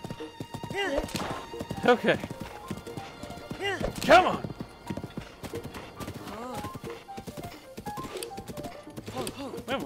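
A horse in Zelda: Breath of the Wild gallops with steady clip-clop hoofbeats and lets out neighs and whinnies, heard under game music while a player speaks briefly.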